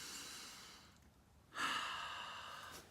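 A single deep breath, a long soft exhale that trails off, then a short pause and a loud sharp inhale that slowly tapers away, close and breathy, with no words.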